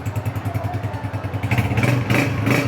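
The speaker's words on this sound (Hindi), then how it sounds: "साउंड भी सुने। Honda 125 model 10।" A 2010 Honda 125 motorcycle idles and runs steadily up close, its single-cylinder engine giving a loud, even thumping beat that grows slightly fuller toward the end.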